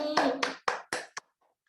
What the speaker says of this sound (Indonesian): tepuk tangan untuk Doni.